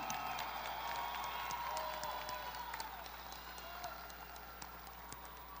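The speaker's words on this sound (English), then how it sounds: "Could we give one more round of applause to the 100th graduating class of Highland Park High School" A large crowd at the Highland Park High School class of 2016 graduation applauds and cheers, a broad, somewhat distant roar of clapping and voices over a steady hum, easing slightly toward the end.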